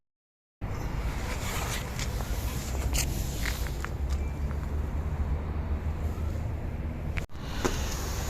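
Footsteps climb a ladder toward the upper roof of a Soviet-era tower block in Lviv: scattered knocks and scuffs over a steady rushing background, close by, ending in a sharp cutoff.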